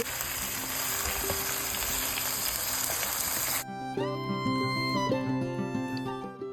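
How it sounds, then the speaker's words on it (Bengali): Marinated rui fish fries in hot oil on a balcony stove, giving a loud, steady sizzle and crackle. Partway through, a musical background with held tones takes over while the frying stays underneath. "এই পর্যায়ে মাছটাকে খুব সাবধানে এপিটোপিট করে একটু আমি ভেজে নিই"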